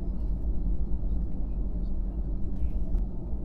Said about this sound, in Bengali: ফ্লাইট ধীরে ধীরে রানওয়ের দিকে যাচ্ছে